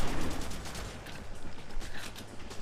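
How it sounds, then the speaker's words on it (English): Rapid pistol shots in the shooter game Haze crack in a quick uneven string, moderately loud bursts over a low rumbling background, no talking. "I'm going to try to save some ammo by using the pistol here."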